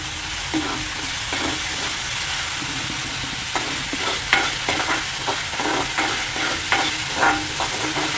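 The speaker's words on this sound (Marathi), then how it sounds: "बारीक चिरलेला कांदा घाला गॅस थोडा फास्ट करत आहे" Finely chopped onion with curry leaves fries in hot oil over a raised flame, a continuous sizzle broken by repeated scraping stirs of a spoon against the pan, close and fairly loud with no talking.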